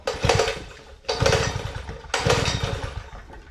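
A Honda GX160 engine fitted with a new carburetor runs a Wacker BS30 rammer, loud and close, pounding in three heavy rhythmic bursts about a second apart.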